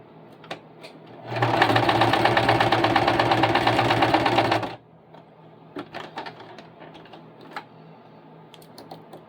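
A sewing machine runs in one continuous burst of about three seconds, stitching elastic onto cloth doll clothes, with quieter handling clicks and rustles before and after.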